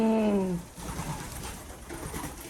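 Newly arrived Belgian pigeons in a loft: a clear rising-falling coo opens the moment, then gives way to quieter shuffling and soft low murmurs.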